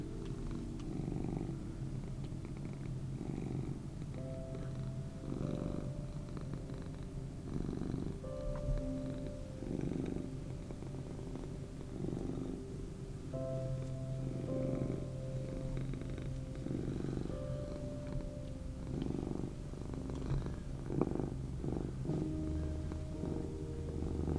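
A cat purrs softly and steadily up close, its rhythmic rumbling breaths continuing throughout at low volume with no talking.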